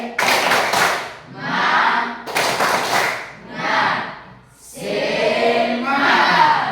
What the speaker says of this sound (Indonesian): Oke, kita mulai. Tepuk semangat.